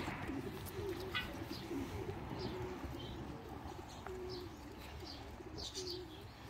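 Racing pigeons coo softly and repeatedly inside a Belgian loft, low throaty calls recurring every second or so over a steady ambient hum, with occasional faint chirps.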